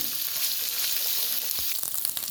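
Ginger garlic paste fries in hot oil with a dense, steady sizzle, broken by a few brief clicks and scrapes near the end.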